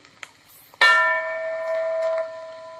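A single loud bell strike rings out, its tone holding and slowly decaying for about two seconds, rung as a classroom signal; soft faint knocks come before it.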